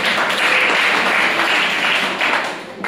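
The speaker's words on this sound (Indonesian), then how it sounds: "Aplaus buat Magelang." A classroom crowd applauds a student from Magelang, a dense burst of hand clapping that holds steady and then tapers off near the end.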